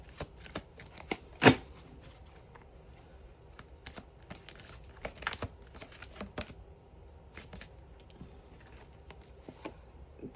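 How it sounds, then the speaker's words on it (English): Rider-Waite tarot cards shuffled and pulled, a run of quick papery riffles and taps with one louder snap near the start, close and quiet. "I feel really called to pull a couple more cards just for clarity"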